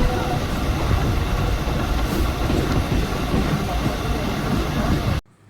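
A Mumbai local train runs toward Kurla with a loud, steady rumble and rhythmic clatter of wheels on rails throughout, cutting off abruptly just before the end.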